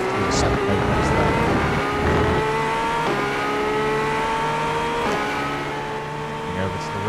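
Acura GTP race car in the iRacing sim at Mexico City, its engine revving loud and high as it accelerates, with sharp upshifts marking each gear change and a steady continuous roar throughout.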